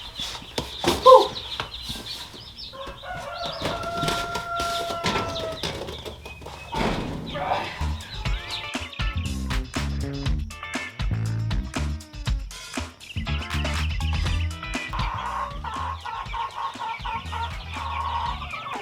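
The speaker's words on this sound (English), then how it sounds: "So these are the chicks that we collected during our first and second hatch." Young chickens from a first and second hatch cluck and peep in a low-cost chicken barn, with steady chirping and clucking close by, mixed with rustling, handling noises and occasional bumps.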